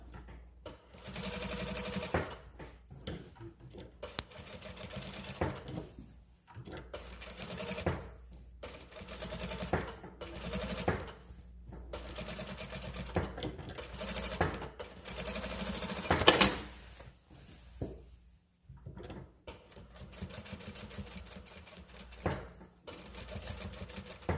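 A sewing machine topstitches two lines along the curved sailor collar of a dress, running in close bursts of rapid stitching separated by short pauses and shifts in pace.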